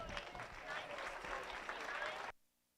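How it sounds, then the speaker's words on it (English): Crowd applause rings out at a 4-H market hog show at the Elbert County Fair, steady clapping for a couple of seconds that cuts off abruptly into near silence, with some faint background voices. "Let's give them all a round of applause."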